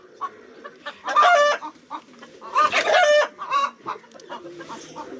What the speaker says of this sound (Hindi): सेब्राइट नाम है इनका, और ये उनकी पसंदीदा मुर्गी थी।